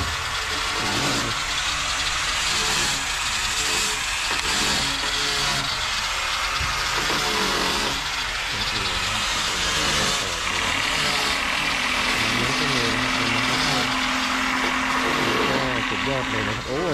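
Twin engines on a fiberglass boat idle at a dockside boatyard in a continuous, loud, throbbing drone with steady knocking pulses, close by and filling the whole stretch.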